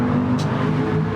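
Racing car engine in the game GT Sport, a steady loud droning hum held at high revs through the whole brief moment, with a faint gear-change whoosh partway.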